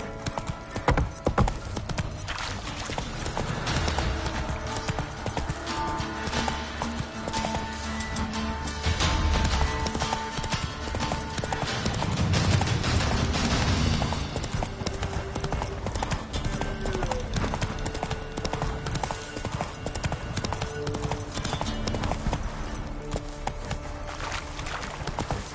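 Geralt's horse Roach gallops in The Witcher 3: Wild Hunt, a rapid, steady clip-clop of hooves with an occasional whinny, heard over game music and effects.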